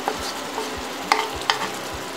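Tofu is stirred in a hot pan with fried golden lemongrass and chili, a utensil scraping and clacking in a few spaced strokes over a steady low sizzle, close by with no talking.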